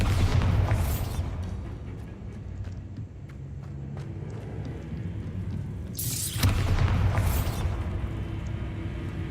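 Bombarda spell explosions in Hogwarts Legacy, two loud booming blasts, one at the start and one after a stretch of quieter rumbling ambience, each with a bright crackling burst fading out.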